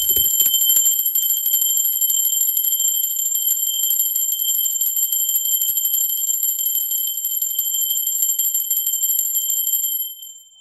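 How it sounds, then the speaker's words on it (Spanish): A bell struck once, ringing with a bright, sustained high tone that hangs steadily for about ten seconds before fading away. "¡Va, campana!"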